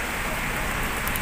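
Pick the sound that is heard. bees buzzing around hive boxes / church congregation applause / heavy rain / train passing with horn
heavy rain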